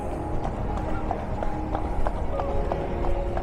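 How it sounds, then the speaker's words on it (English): A horse pulling a traditional cart clip-clops along a busy seaside promenade, its steady hoofbeats moderately close beneath constant crowd and traffic noise, with people talking nearby. "Here's a little horse and cart."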